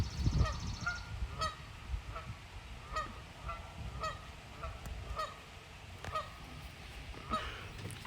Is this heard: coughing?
no